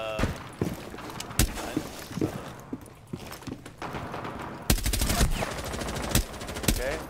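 Video game gunfire crackles in a Minecraft-style Emerald map, sharp single shots and rapid bursts over steady background noise, fairly loud and close.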